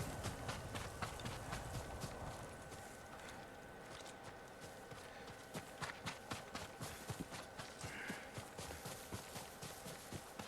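Horse hooves clip-clop in a steady walking rhythm in Ghost of Tsushima, fairly close and clear, with faint rustling in the background.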